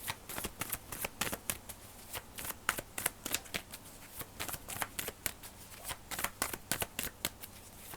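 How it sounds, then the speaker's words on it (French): Tarot cards shuffled and drawn by hand, a steady run of crisp riffling flicks and soft slaps repeating across the whole stretch, close and fairly quiet, with no talking. "On va prendre une dernière carte."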